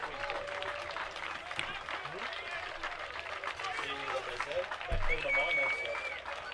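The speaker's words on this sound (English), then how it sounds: "Crowd making the loudest noise they've made all day." Loud crowd roar at a paintball tournament match, dense and sustained throughout with a sharp swell near the end, commentators talking over it.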